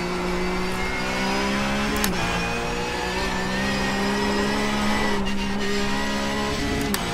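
A Porsche Cup race car in iRacing, circling Circuit de la Sarthe, holds a steady, close engine drone that dips sharply twice as it shifts down a gear, with no talk.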